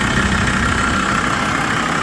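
A 2004 Volkswagen LT 35 van engine idles close by, a steady, even mechanical hum with a slight vibration and no talking.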